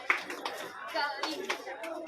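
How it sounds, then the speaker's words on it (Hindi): A crowd claps in welcome for a performer at a public event for a Chhattisgarhi film, the applause rippling in uneven bursts close by, mixed with scattered voices and shouts. "चेतन भाई का जोरदार ताली के साथ स्वागत"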